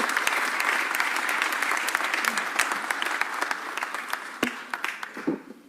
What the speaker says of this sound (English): Put your hands together for my partner.